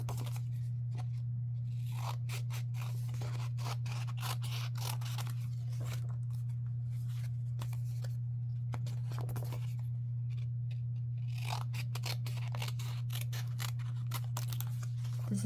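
Scissors cut quickly through craft-kit material with rapid, close, crisp snips in irregular bursts over a steady low electrical hum.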